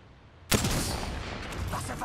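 A sudden loud blast of gunfire in a shooter video game opens a dense, sustained roar of shots and explosions that stays close and heavy to the end.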